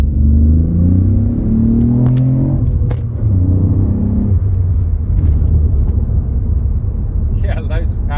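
A Ford Fiesta ST with the 1.5T EcoBoost petrol engine revs in sport mode, rising and falling in a throaty drone with a couple of sharp pops, recorded close from inside the car without speech.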